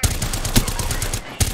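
Rapid bursts of close, loud gunfire in a shooter video game, punchy shots in quick succession with brief gaps between volleys.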